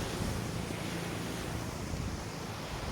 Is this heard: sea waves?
yes